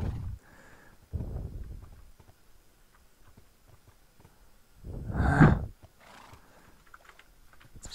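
Horses in the Minecraft video game neigh and snort in short bursts between quiet gaps, one loud whinny standing out near the end, with no talking.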